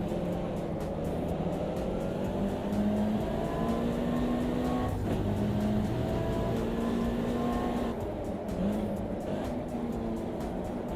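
Sim racing game car spinning its rear tyres to warm them and throw up smoke, a steady loud engine drone with rising and falling pitch sweeps, continuous and close throughout.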